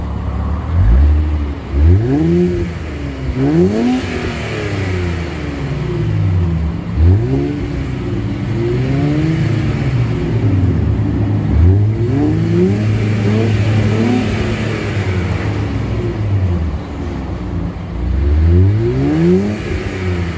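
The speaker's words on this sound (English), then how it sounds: "Let me give you some warm revs just like this." An Infiniti Q50 fitted with a custom 3-inch catback exhaust revs repeatedly while parked, loud close throttle blips rising and falling over a steady idle growl, with no talking.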